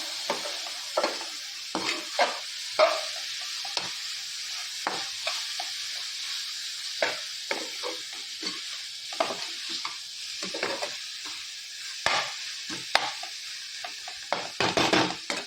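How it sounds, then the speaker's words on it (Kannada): A sweet dish being stirred in a pan on the stove after cardamom powder goes in, with a soft continuous sizzle broken by repeated scraping and clinking strokes of the spoon against the pan. "ಏಲಕ್ಕಿ ಪೌಡರ್ಲ ಪಾಡ್ದ ಒಂಚೂರಡಿ ಮಿಕ್ಸ್ ಮಾಡ್ತದೆ"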